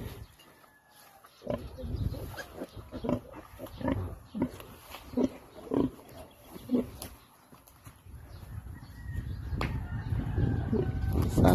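A sow with her newborn piglets on a farm gives repeated close grunts and squeals in bursts over several seconds, then a rising, steadier rustle of movement near the end.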